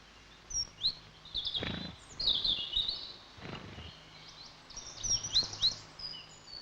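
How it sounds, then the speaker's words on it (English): A mixed flock of tits calling at a feeder in snow: thin, high chirps and short twittering notes scattered throughout, close by and fairly soft, with occasional low rustling bursts between them. "with a mixed flock of tits who've been lucky enough to come across a free handout"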